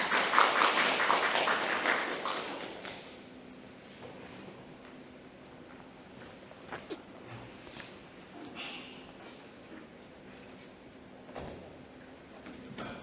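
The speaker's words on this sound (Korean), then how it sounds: "이사장님 큰 박수로 맞이해 주시면 감사하겠습니다" Applause from a seminar audience at a Seoul environmental forum greets the chairman, loudest at the start and fading over the first few seconds into a quiet room with scattered taps.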